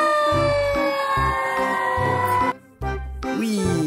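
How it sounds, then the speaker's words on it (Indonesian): Toy fire truck siren, a looping electronic wail with a repeating tonal pattern and a rhythmic low pulse, close and loud, cutting out briefly near the end. "Wow, ada mobil fire truck."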